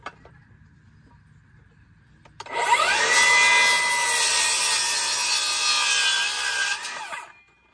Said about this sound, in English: So I'm cutting them to 4 feet